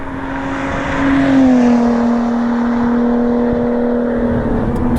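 A 2018 Lotus Evora 410 Sport with its Silent C turbos removed and a very short titanium exhaust idles and revs, giving a loud, close, steady engine drone with a slight rise in pitch early on.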